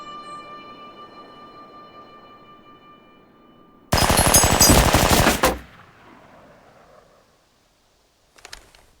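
A machine gun fires one long, loud burst of rapid shots that rings out and dies away, then a short second burst follows after a quiet gap; a faint steady hum sits underneath at the start.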